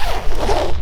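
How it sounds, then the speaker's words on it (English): The chunky front door zip of a Cloud Up 3 backpacking tent is pulled open in one quick, close, loud rasping stroke lasting under a second. "the zip on this one is a bit more chunkier than what you get on the Cloud Up 2"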